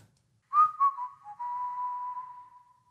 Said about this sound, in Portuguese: Pelo assobio, vocês já conhecem.